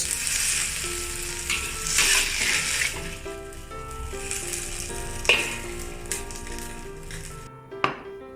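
Beef chow fan stir-frying over high heat in a wok gives a steady, close sizzle with scraping stirs. A few sharp clanks cut through before the sizzle cuts off near the end.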